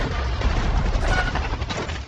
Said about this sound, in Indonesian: Setelah ledakan barusan